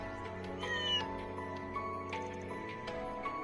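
Cats meowing in the video game Trails Through Daybreak II: a short meow rises above steady game music and ticking sounds, and a few fainter mews follow.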